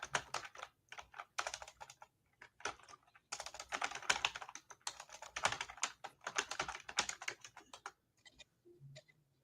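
Rapid, uneven clatter of keys on a computer keyboard, typed in bursts with short pauses between, close and fairly quiet with no voices.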